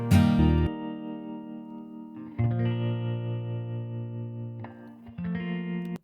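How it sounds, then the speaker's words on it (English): A Gibson-style 335 electric guitar through a Princeton amp with tremolo plays sustained chords, each ringing out with a pulsing, wavering tone, clean and close, with pauses between strums. "the first one was my 335 through a Princeton amp,"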